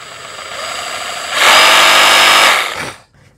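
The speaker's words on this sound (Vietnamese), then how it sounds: "Máy chạy tốc độ chậm nó rất là êm nha anh em." A Milwaukee M18 cordless reciprocating saw runs free at low speed, a smooth close motor whine that surges louder for about a second before winding down and stopping.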